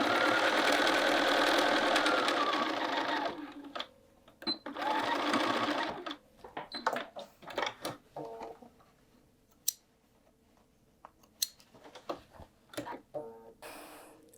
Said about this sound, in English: we're going to sew to the end and back tack